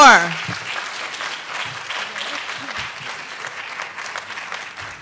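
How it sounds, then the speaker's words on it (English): Sustained applause from an audience at a health forum awards, steady clapping throughout with a brief tone at the very start. "I want just to give our awardees another round of applause"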